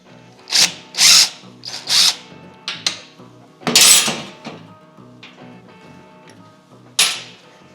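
Power drill taking the wheels off a drive mechanism, several loud, close whirring bursts of varying length with pauses and faint clicks in between, no talking.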